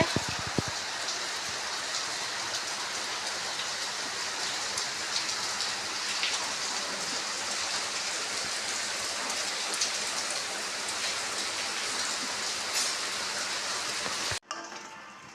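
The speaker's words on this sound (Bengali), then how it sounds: "বাইরে বৃষ্টি হচ্ছে।" Steady, even rainfall patters continuously for the whole stretch, a dense hiss of drops on surfaces with no voices, cutting off abruptly near the end.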